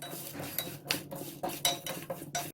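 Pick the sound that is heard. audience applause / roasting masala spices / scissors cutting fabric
roasting masala spices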